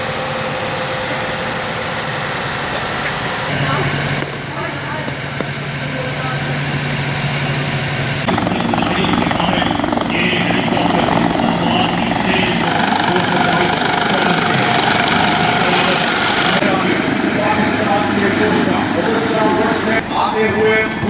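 A helicopter drones loudly and continuously during a military flypast, its heavy engine and rotor noise filling the whole stretch and shifting in tone partway through.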